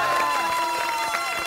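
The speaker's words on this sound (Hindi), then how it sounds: "हमारे देश भारत के लिए जोरदार तालियां बजाएं" Audience cheering and applause at a residential society's Republic Day gathering, a brief burst of crowd noise with shouts and a whistle-like tone over scattered clapping.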